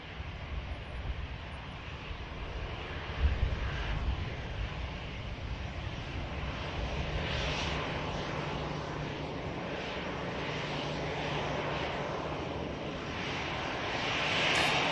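A Boeing Dreamliner airliner turning onto final approach at Manchester Airport gives a steady, distant broadband engine roar that swells slightly toward the end.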